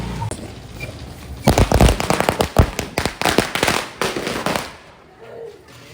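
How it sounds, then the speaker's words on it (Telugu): Firecrackers bursting outdoors during Diwali celebrations, a loud rapid run of sharp cracks and bangs after a quieter start, then fading to near silence by the end; no talking. "వాళ్ళు మొత్తం ఘోరంగా పెడతారు బాంబులు"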